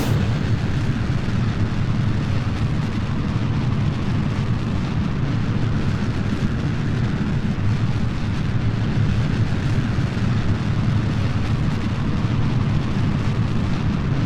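A rocket launches in Kerbal Space Program with a steady, loud engine roar. The broadband rumble runs unbroken from start to finish with no talk over it.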